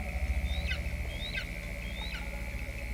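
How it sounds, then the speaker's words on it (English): Three faint, evenly spaced chirps from a juvenile Verreaux's eagle repeat at night over a steady tonal hum and low background rumble. "The faint chirping means the juvenile hasn't moved."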